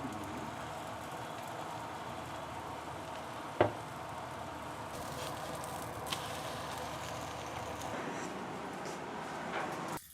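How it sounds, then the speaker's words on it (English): Leftover eggs fry as an omelette in a pan, a quiet, steady sizzle running throughout with a single sharp clink partway through. "Leftover eggs can be cooked as omelette."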